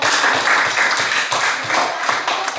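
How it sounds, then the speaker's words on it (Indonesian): A group applauds at a gathering, steady overlapping hand claps that keep a fairly even rhythm and fade slightly toward the end, fairly close. "berikan aplaus dulu"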